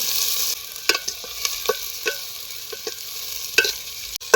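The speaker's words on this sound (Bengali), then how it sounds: "এবার পেঁয়াজটাকে একটু ভেজে নেব" Chopped onion with bay leaf and dried red chili sizzles in oil on a riverside cooking setup by the Churni, a dense steady hiss broken by frequent clicking spatula strokes, close and loud.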